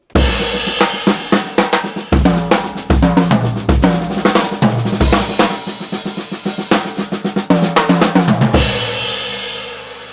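Drums are played in a busy improvised run of rapid single strokes across toms and snare with cymbal wash, loud and continuous.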